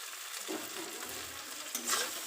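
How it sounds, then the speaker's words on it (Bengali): Okra frying in oil with onion, garlic and tomato, a soft sizzle with a couple of brief stirring scrapes near the end, close but fairly quiet. "এবার ঢেঁড়সটা এতে দিয়ে দেবো"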